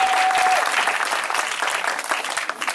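Loud, dense applause from a church congregation acclaiming the Lord fills the room without pause, a steady crackle of many hands clapping close by.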